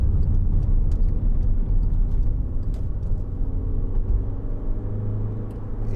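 A 2012 Skoda Yeti 2.0 TDI four-wheel-drive diesel cruises along, its steady low engine drone and road rumble continuous and close, with no voices.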